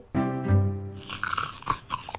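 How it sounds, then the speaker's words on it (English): A crunchy apple slice bitten once with a sharp crunch, then a few rapid chewing crackles close to the mic, following a brief sustained musical tone. "This crunchy apple slice tastes even better than sugary candy."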